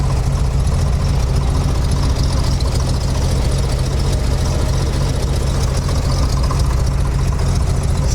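An old International truck with a 4.6 engine idles loudly and close up. The low rumble is steady and uneven, with a rough knocking quality, and runs the whole time with no talk.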